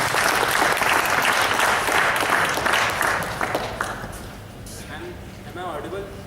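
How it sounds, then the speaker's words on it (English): A crowd claps steadily and densely at an event called Get Richer with FiNUity for a presenter named Pranjal, then fades after about four seconds while a voice briefly sounds near the end. "Give a round of applause to Pranjal."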